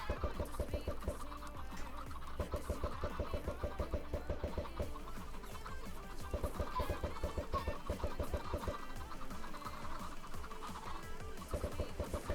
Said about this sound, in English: The chickens can just stay here for a little bit if needed.